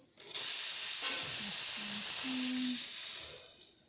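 The steam wand of a La Marzocco Linea Mini espresso machine blasts a loud, steady hiss of steam for about two seconds, then tapers off in softer sputtering bursts.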